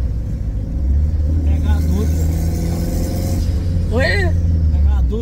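Honda Civic turbo car engine revving, a loud, close droning engine note with rising pitch sweeps, and people speaking over it near the end.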